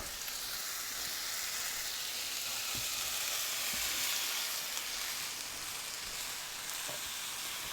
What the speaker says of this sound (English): here's our meat that's searing on there